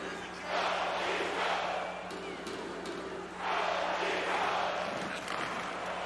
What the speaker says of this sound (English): And you hear from the crowd, the crowd wants the Toronto Maple Leafs to go.